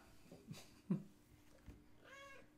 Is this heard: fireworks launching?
no